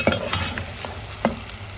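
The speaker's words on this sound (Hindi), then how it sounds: "अब इसमें ये प्याज चली जाएगी।" Onions dropped into hot oil in a pan, a steady close sizzle with a few sharp clinks and scrapes of a spoon, no voices.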